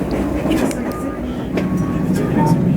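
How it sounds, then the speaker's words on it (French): A TGV high-speed train passes near Ambérieu, France, with a loud, continuous rolling rumble and faint rail clatter that persists throughout. "C'est TGV."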